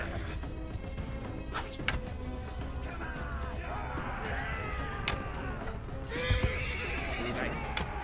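Horses neigh and whinny repeatedly during a cavalry battle in the video game Mount & Blade II: Bannerlord, with hooves clip-clopping beneath a constant clash of combat noise.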